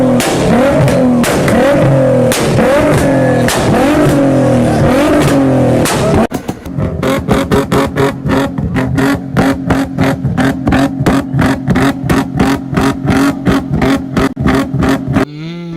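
A 2000s Infiniti G35 with a 3.5-litre V6 and straight-pipe exhaust revs loudly up and down, then settles into rapid, repeated throttle blips that crackle sharply, close and without voices.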